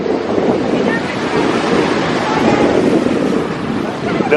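Ocean surf at a beach with a bonfire gathering, a steady broadband wash of waves and wind rushing continuously close to the microphone, with faint voices in the background.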